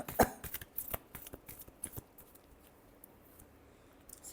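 Tarot cards being shuffled by hand, a quick burst of crisp riffling and flicking near the start, then softer scattered taps and slides fading to near silence.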